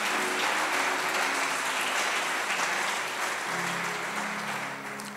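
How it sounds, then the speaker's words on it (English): Church congregation clapping together, a dense steady round of applause that gradually fades, with a voice or tones faintly underneath. "A big hand clap to him."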